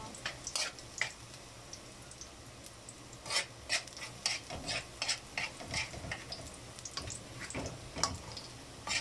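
Garlic frying in oil in a curved wok-style pan, soft sizzle under repeated metal spatula scrapes and taps on the pan, close and irregular.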